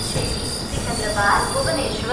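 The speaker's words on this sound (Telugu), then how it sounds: "మన ట్రైన్ వచ్చేసి గుడివాడ జంక్షన్కి అయితే రీచ్ అయింది" Wheels of the Visakha Express squeal as the train pulls into Gudivada Junction, a steady high metallic screech over a rumbling rolling bed, loud and close, with a brief louder swell midway.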